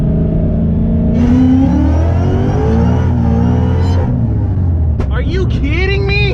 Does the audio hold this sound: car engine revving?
yes